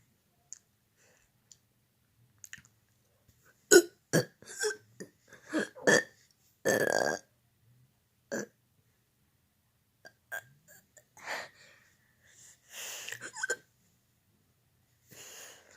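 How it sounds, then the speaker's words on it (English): A person burping in a quiet room, with a dog nearby: a scattered series of short, abrupt belches and throaty clicks separated by silence, some louder and longer than others. "today we're gonna be burping"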